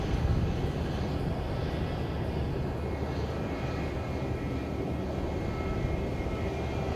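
A Jetstar airliner passes at Christchurch airport, its engines a steady, moderately loud rumble that holds throughout with no voices over it.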